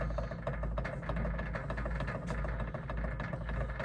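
Drum rolls played on a practice pad as a percussion teaching demonstration, a dense, steady stream of fast strokes blurring into a continuous buzzing roll, moderately quiet and heard alone.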